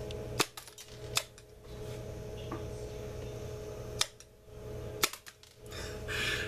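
A LEGO Bionicle blaster fires Cordak projectiles in four sharp, loud snapping shots spaced irregularly over several seconds, each a crisp click-pop against a steady room hum.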